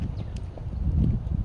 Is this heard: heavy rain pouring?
no